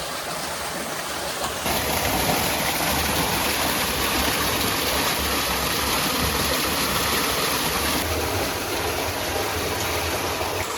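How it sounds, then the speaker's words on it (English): A waterfall pours in a loud, continuous rushing roar close by, steady throughout with a thin high whine joining in early on. "It's actually more of a waterfall"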